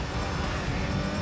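Race car engine in the PS2 driving game Gran Turismo 3, a continuous loud droning roar over a brief moment.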